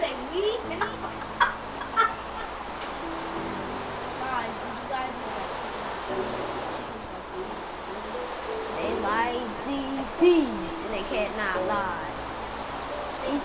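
Minecraft chickens cluck and squawk in short bursts against steady rushing ambient noise, while people talk over them intermittently.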